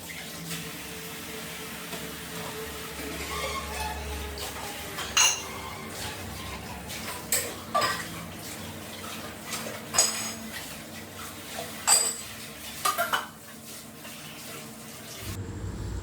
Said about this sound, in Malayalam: ഞാൻ വേഗം വേഗം ചായ കുടിച്ച പാത്രങ്ങളൊക്കെ പെട്ടെന്ന് കഴുകിയെടുക്കുകയാണ്